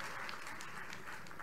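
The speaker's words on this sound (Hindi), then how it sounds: "अरे ताली बजाना तो जोर से बजाओ" Audience clapping steadily at a political rally in Indore, Madhya Pradesh, a dense continuous patter of many hands held at an even level for the whole moment.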